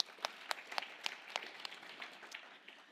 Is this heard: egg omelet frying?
no